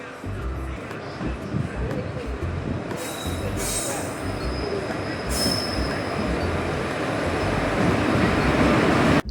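A train rolls through a station with a steady rumble, and its wheels give two sharp, high squeals partway through, with a voice faintly audible beneath the noise.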